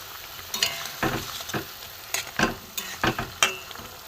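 Stuffed bitter gourd fritters fry in a pan of hot oil, giving a steady sizzle broken by several sharp crackling bursts and spatters as the pieces are turned.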